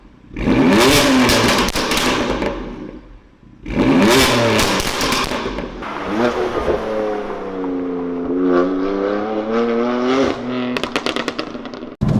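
A sports car's M Performance exhaust revs hard in two loud bursts, then settles into a rising, burbling drone with crackles, close and powerful.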